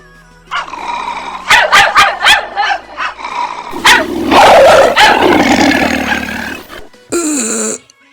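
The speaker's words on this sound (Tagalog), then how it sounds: "Delikado na si Chupa dahil lalapain na siya ng mga asong ulol" Rabid dogs attacking give loud, close, rapid barks and yips in quick bursts, which grow into a dense growling, snarling frenzy and end with a sharp final yelp.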